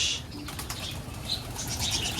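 A pigeon's wings flap in a quick flurry as it is released and takes off, with soft chirps nearby and faint background noise throughout.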